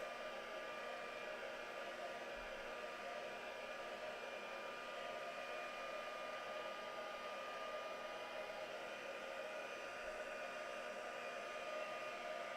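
A hair dryer blows steadily over wet paint, a constant faint whirring hum with no break.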